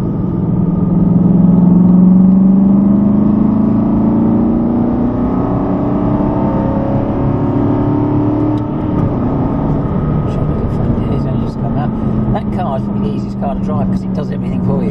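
An Aston Martin V8 Vantage accelerates hard on the Rockingham race track, its engine note climbing steadily and loud from inside the car while someone talks over it.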